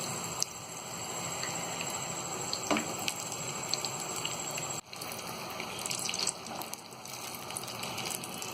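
Vada, Mumbai-style potato fritters, deep-frying in hot oil with a steady bubbling sizzle throughout, plus a few soft clicks and a brief dip midway.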